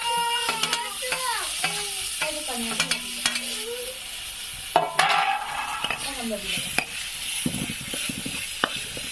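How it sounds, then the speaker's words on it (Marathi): Tomatoes with turmeric and salt sizzle in hot oil while being stirred in a pan, a steady close frying hiss with scraping stirs, and children's voices and chatter in the background. "टमाटर व्यवस्थित तेलामध्ये होऊ द्यायचं"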